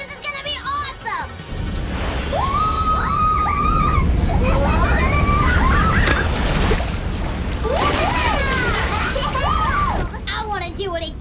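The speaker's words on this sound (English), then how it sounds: "I think we're about to go over a waterfall." Rushing, sloshing water carries a cartoon boat over a waterfall, a loud steady roar with splashes, while children's voices shout and exclaim over it.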